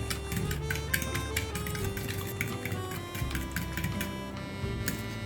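Sugar and a pinch of salt are beaten in a bowl for a cheesy bread toast, giving a quick run of light, rhythmic clicking and tapping that stays fairly quiet and close throughout.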